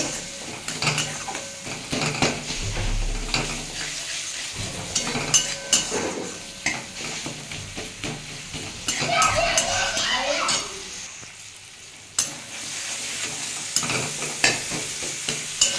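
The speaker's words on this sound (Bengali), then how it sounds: "সামান্য একটু চিনি দিয়ে বন্ধু এটা একটু ভালো করে কষিয়ে নেব" Spinach paneer masala with a little sugar sautés in a pan, a steady sizzle punctuated by frequent scraping and clinking of a utensil against the pan, with brief background voices and a short lull near the end.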